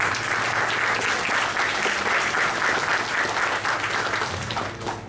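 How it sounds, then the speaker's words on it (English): Sustained round of audience applause at a club meeting, dense steady clapping close by that tapers off near the end. "please give all our signees a thunderous round of applause"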